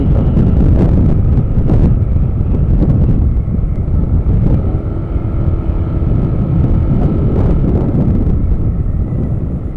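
Steady roaring wind buffeting the microphone while riding a motorcycle on an open road, loud and continuous with gusty low rumble and no talk.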